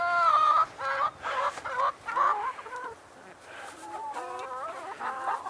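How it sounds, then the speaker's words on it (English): Chickens cluck and squawk in a steady run of close, loud calls while being fed corn on a homestead, with brief pauses and a softer stretch midway. "There you go, chickens"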